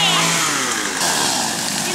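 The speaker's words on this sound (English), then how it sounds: "since we have men with chainsaws here, they just decided to go ahead and take some of these trees back" Chainsaws run as workers cut back trees on a future house site, a loud continuous motor whine with shifting pitch throughout, while voices talk over it.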